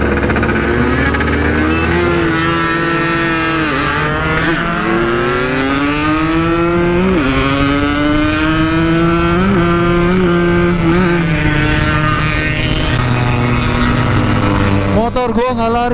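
Yamaha RX King two-stroke motorcycle with a ported OS 150 cylinder block, engine held near top speed: a loud, buzzing, continuous drone whose pitch rises and dips with gear changes and throttle, with wind rush and a brief jolt near the end.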